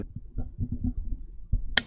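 Quiet room with low rustling and handling noise, then one sharp, close mechanical click near the end as the pattern switch on a Maono Fairy USB microphone is flipped.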